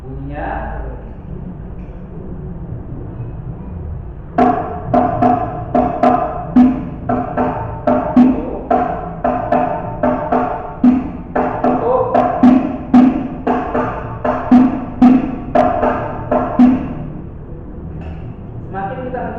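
A rebana hadroh frame drum plays a slow basic beat pattern, a run of ringing, evenly paced strikes mixing deeper and brighter tones, starting after a quieter opening and continuing for several bars.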